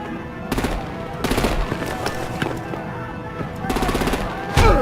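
Artillery blasts and bursts of automatic gunfire in the Batman: The Enemy Within video game, loud repeated volleys in clusters with heavy booms and a big blast at the end, with a voice partly audible underneath.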